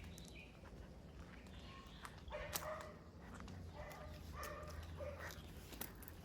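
Dogs barking after Hurricane Beryl, scattered distant barks rising faintly out of a noisy outdoor background with a few sharp knocks.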